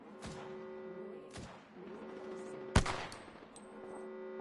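Video game gunfire, heard as a few sharp shots, one loud crack standing out near the middle, over a steady electronic hum.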